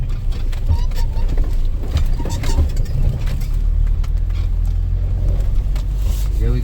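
Off-road vehicle descending a snowy mountain pass in Lesotho, a steady low engine and tyre rumble running throughout, with voices talking over it.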